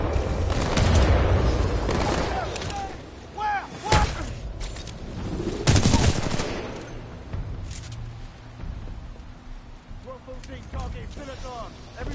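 Grenade blasts and gunfire in Titanfall 2 combat: several heavy booms and thuds with bursts of shots, plus whistling and electronic game effects, with someone talking over parts of it.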